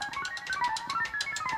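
A voice mimics typing on a 1960s computer with a quick run of chirpy, beeping syllables, evenly paced blips stepping up and down in pitch, close and fairly loud.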